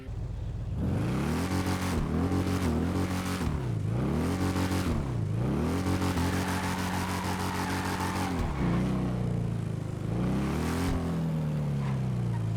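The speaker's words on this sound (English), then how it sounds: "let's just quickly take a listen to this bike" An LCC Sanctus motorcycle engine in GTA Online revs loudly and continuously, rising and dipping in repeated swells of throttle, close and alone.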